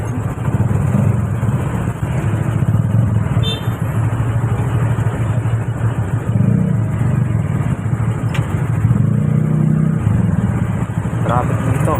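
Road traffic with cars and motorcycles rumbles steadily nearby, engines droning and occasionally revving, with people talking over it throughout.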